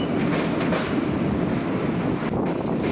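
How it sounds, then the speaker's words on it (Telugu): Tungabhadra Express rolling over a bridge track between Kurnool and Secunderabad, a loud continuous rumble of wheels with faint rhythmic clatter and wind buffeting the microphone. "ఈ ట్రాక్ సౌండ్ అయితే చాలా బాగుంటుంది"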